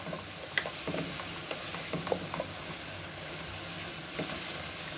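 Garam masala and chilli powder stirred and sautéed in a pan for semiya pulao, a steady soft sizzle with scattered scraping clicks of a spoon, close up, no voices.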